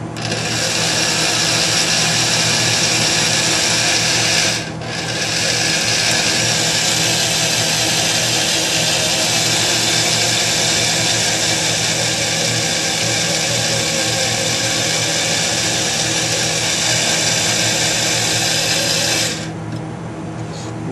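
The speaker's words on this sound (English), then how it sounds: "I'm gonna keep drilling nice and slow." A steady, loud mechanical whir runs continuously for about twenty seconds, with two brief dips where it slows, a drill grinding slowly into metal on a Philco 50-920 tube radio.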